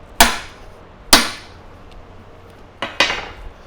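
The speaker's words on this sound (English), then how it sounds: "grab a nice big hammer, and you hold it in the direction of loosening" Big hammer striking a manual impact driver to loosen a stubborn screw during transmission work: four sharp metallic blows, two spaced about a second apart, then a pause and two quicker hits, close and clear.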